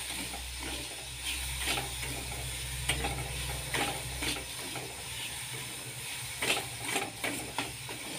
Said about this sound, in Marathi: सततच हलवत राहायचं म्हणजे खालून लागणार नाही आणि पाकाचा रंगही बदलणार नाही